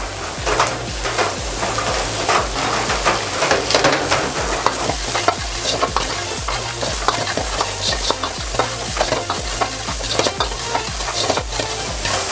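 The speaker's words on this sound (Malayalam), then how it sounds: "ഓണിയനൊക്കെ ഒന്ന് ചെറുതായിട്ട് സോട്ടയായി" Onion, green chilli and capsicum being sautéed for gobi manchurian, a loud, close sizzle with a brisk, rhythmic scraping and clacking of a spatula against the pan throughout, no talking.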